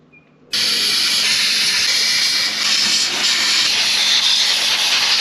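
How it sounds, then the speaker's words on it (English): Compressed air blasts through the engine bay of a 1939 Farmall H tractor: a loud, steady, close hiss that starts abruptly after a brief quiet moment and holds for about five seconds. "I just blew everything out with air to make sure we got it good and clean."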